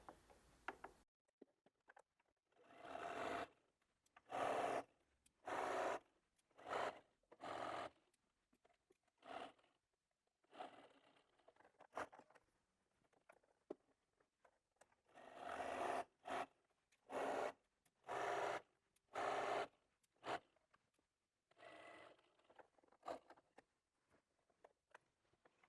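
Quilt binding being stitched on a sewing machine in short mechanical bursts, each run of needle clatter lasting a second or two with quiet pauses between, close and fairly soft, no voices.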